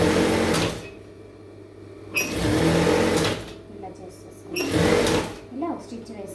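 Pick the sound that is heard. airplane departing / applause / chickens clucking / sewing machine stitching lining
sewing machine stitching lining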